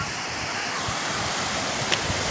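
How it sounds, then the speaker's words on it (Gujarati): Water rushing over the overflow of Bor Talav lake, a continuous broad roar close by and steady throughout. "જો પાણી કેવું પડે છે બાવણાને ઉપર થઈને આવે છે પાણી"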